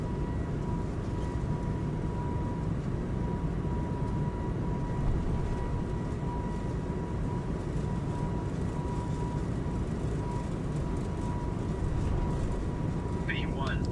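An Airbus A220 jet in Microsoft Flight Simulator 2024 roars steadily through its takeoff run, a dense, unbroken engine drone with a faint high whine holding throughout.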